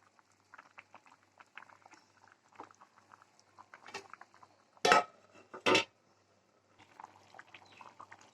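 Mackerel curry being stirred in a pot after fenugreek powder goes in, with soft bubbling and light scraping of a spoon against the pan, punctuated by two louder clattering scrapes near the middle; no one speaks.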